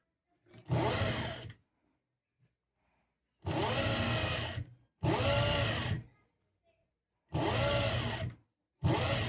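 A sewing machine stitches a blouse in four separate bursts of loud, close motor whir, each lasting about a second or more, with near-silent pauses between them.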